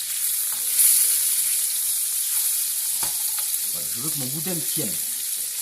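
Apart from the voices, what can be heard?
boudin frying in pan, being turned over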